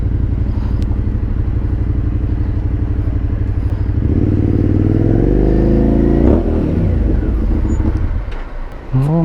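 A heavily loaded motorcycle engine runs loud and close throughout, its steady low rumble rising in pitch as it accelerates midway, then easing off near the end.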